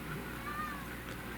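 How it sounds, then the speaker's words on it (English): A house cat gives a faint, brief meow, a thin rising-and-falling cry that sits low over steady indoor background hum. "the noise you're hearing, if you can hear it, is my cat Liz, which is here."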